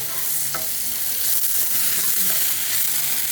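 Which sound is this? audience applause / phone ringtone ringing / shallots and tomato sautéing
shallots and tomato sautéing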